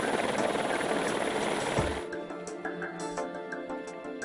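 A heliskiing helicopter drops skiers high on a mountain, its rotor roar loud and close at first, then falling away to a quieter, distant thrum.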